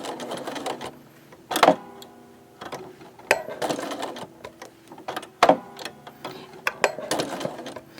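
A sewing machine stitches a flower quilt block at a slow pace without the foot pedal, in short bursts of rapid mechanical whirring separated by pauses and small clicks, close by, with no talk.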